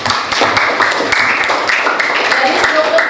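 A class applauds a student in a school lesson, with steady dense clapping from many hands mixed with voices and chatter throughout.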